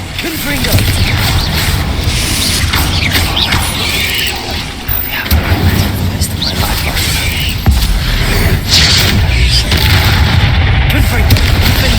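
Confringo fire-blast spell explosions in the video game Hogwarts Legacy, a dense, loud barrage of booming blasts and crackling impacts running continuously amid battle noise, with a voice shouting spell names over it.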